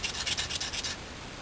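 Close, loud rasping strokes as a blade scrapes powder off a fire-starter block, about eight quick rhythmic passes in a row, then quiet.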